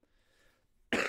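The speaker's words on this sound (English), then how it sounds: "I've had this really dry cough lately." A single dry cough bursts out sharply and close at the end, after a near-silent moment of faint room noise; no speech.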